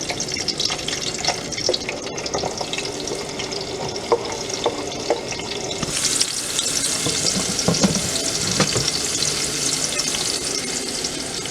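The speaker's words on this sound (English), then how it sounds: "we're going to go ahead and fry our onion first in an oil that's already hot" Onion fries in already-hot oil for Guyanese catfish curry, giving a steady sizzle and crackle that grows brighter and louder midway, with stirring throughout.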